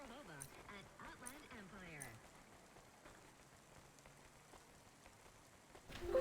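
Steady rain patters on surfaces in the video game Cloudpunk, a soft continuous hiss beneath a voice in the opening seconds, then alone and faint.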